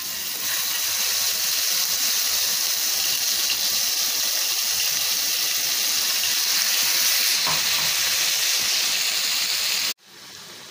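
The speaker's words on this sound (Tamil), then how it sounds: "எண்ணெய் காஞ்ச உடனே இந்த chili paste நம்ம இப்போ அது கூட சேர்த்துக்கலாங்க." Chili paste sizzling in hot oil in a wok for Schezwan sauce, a loud, dense hiss that holds steady for about ten seconds and then cuts off abruptly near the end.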